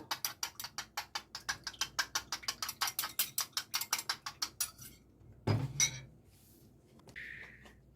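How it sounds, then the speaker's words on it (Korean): Beaten eggs mixed with salted water for Korean steamed egg are whisked rapidly in a bowl, a close, fast, regular clatter of about twenty strokes that stops, followed by a clunk and a short pause. "계란물에다 부어주고요 이제 섞습니다"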